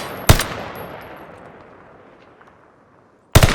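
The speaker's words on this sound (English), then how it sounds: "Enemy precision airstrike." Heavy explosions from an enemy precision airstrike in a military shooter video game, two loud sharp blasts about three seconds apart, the first with a long rumbling decay fading to near silence before the second hits.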